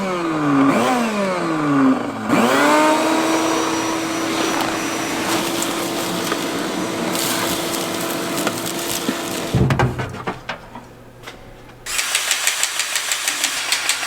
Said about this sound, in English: it's definitely the blower motor